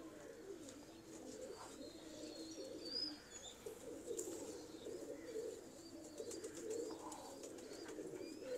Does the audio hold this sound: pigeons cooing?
yes